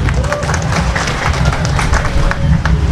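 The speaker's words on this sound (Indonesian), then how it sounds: "tepuk tangan sekali lagi" Rolling applause and clapping from a crowd at a thanksgiving service, a steady dense patter filling the room, with voices mixed in beneath it.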